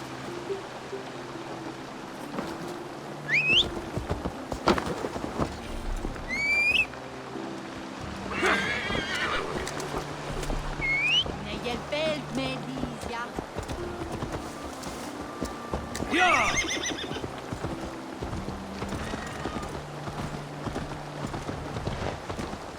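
Horse hooves clip-clopping and a few whinnies in Assassin's Creed Valhalla, under a steady bed of game ambience and flowing water, with the neighs standing out briefly at intervals.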